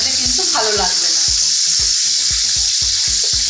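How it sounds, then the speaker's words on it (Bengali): Fish sizzles lightly in hot white oil, a steady loud crackle and hiss with regular low thumps from stirring or the pan, and faint voice-like tones near the start. "মাছগুলোকে খুব হালকা ভাজতে হবে, বেশি কড়া করে ভাজলে কিন্তু ভালো লাগবে না।"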